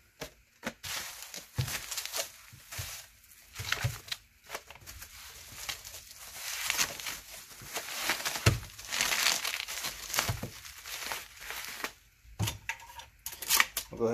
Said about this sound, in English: So let's go ahead and wrap it up in bubble wrap.